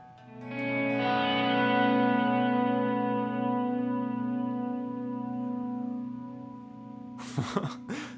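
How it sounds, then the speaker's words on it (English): A sustained guitar chord swells in slowly through a Walrus Audio Slö reverb pedal, wet signal only, hanging in a lush, washy reverb that decays gradually, followed by a brief voice at the end. "Right now we're just listening to the reverberated sound, none of the dry sound."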